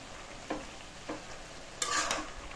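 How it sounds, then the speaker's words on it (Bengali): Cabbage with turmeric, chili and coriander powder is stirred in a frying pan, giving a faint sizzle with a few soft scrapes of the spoon and a brief louder stir near the end. "আমি হলুদ, মরিচের গুঁড়ো, ধনিয়ার গুঁড়ো দিয়ে দিয়েছি। দিয়ে এখন ভালোভাবে নেড়েছে"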